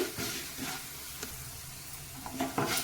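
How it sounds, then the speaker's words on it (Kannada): Masala frying in a pan on a slow flame while being stirred, a soft continuous sizzle with occasional spoon scrapes, near and moderately quiet, no voices. "ಒಂದು ಮೂರರಿಂದ ನಾಲ್ಕು ನಿಮಿಷ ಸ್ಲೋ ಉರಿಯಲ್ಲಿ ಫ್ರೈ ಮಾಡ್ಕೊಳ್ಳಿ"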